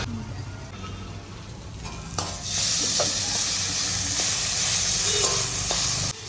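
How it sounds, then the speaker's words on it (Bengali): Ginger garlic paste fries with browned onions in a pan, a soft sizzle swelling into a loud, steady hiss after a couple of seconds, punctuated by light stirring clicks. "আদা রসুনটা আমার হালকা করে ভাজা হয়ে গিয়েছে"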